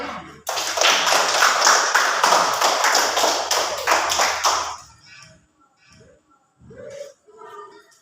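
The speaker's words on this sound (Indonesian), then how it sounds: "Tepuk tangan." A classroom group claps hands together in fast, dense applause for several seconds, loud and close, then it stops abruptly and a few voices speak quietly afterward.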